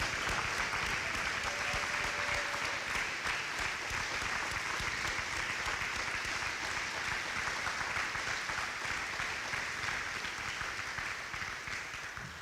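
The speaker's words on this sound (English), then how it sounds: "Let's give a round of applause to everybody who worked on ground to keep our colleges operating." An audience at a fall college convocation applauds, a dense, even wash of clapping sustained for the full stretch at moderate distance, slowly easing in volume toward the end.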